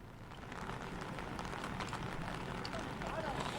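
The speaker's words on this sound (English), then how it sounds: "it's raining heavily here" Heavy rain pours at Rangapani railway station in West Bengal, a dense, steady hiss of drops on surfaces that carries on without pause throughout.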